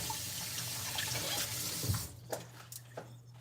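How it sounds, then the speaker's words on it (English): Tap water runs steadily into a sink as hands are washed in a home kitchen, then the flow stops, leaving a few close drips and splashes. "Yay, hand wash again."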